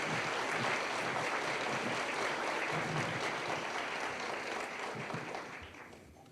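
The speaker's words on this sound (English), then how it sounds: "let's give Coach Gaddis a round of applause" Audience applause for a retiring teacher at a Macon County teacher appreciation event, steady dense clapping from a large crowd that holds for several seconds and then fades out at the end.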